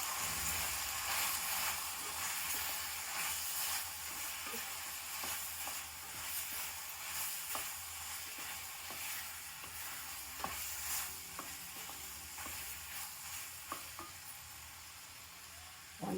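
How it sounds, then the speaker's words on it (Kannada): Coriander powder and garam masala frying in a pan for tomato bath, a steady close sizzle with scattered scraping and stirring clicks that grows slightly quieter over time. "1 ಚಮಚ ಧನಿಯದ ಪುಡಿ, 1 ಚಮಚ ಗರಂ ಮಸಾಲ ಇಷ್ಟನ್ನು ಹಾಕಿ ಫ್ರೈ ಮಾಡಿ."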